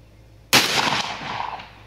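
A single loud .44 Magnum pistol shot fired at a target 100 yards away, a sharp sudden blast followed by a rolling outdoor echo that fades over the next second.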